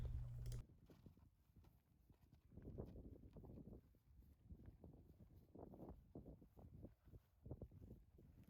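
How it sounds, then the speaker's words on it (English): An underweight Belgian Draft mare steps down off a livestock trailer, hooves thudding and clopping irregularly on the trailer floor and ramp, with soft rustling and wind in an outdoor setting and no voices. "This is the mare getting off the trailer."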